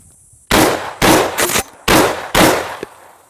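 A DP-12 double-barrel pump-action short-barreled shotgun fires 3-inch double-aught buckshot shells, four loud close blasts in quick succession with brief pauses between, and a click of the action after.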